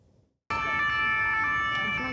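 After a brief quiet moment, emergency sirens blare in, loud and steady, wailing tones layered over distant street noise in Paris during the Notre-Dame cathedral fire.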